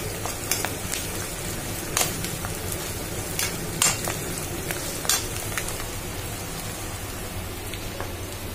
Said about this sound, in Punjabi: ਤੜਕਾ ਫਰਾਈ ਕਰ ਰਹੇ ਹਾਂ।